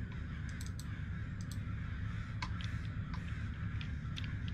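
Crow caws in a video game, a few short harsh calls scattered over a steady low rumbling ambience, fairly faint against the background.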